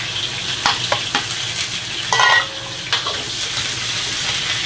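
Ginger and spices sizzling in a wok alongside pork trotters, a loud close sizzle broken by a few sharp clanks and scrapes of stirring, with a brief louder burst midway.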